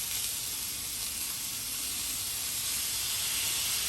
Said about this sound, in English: And you can hear that delicious sizzle.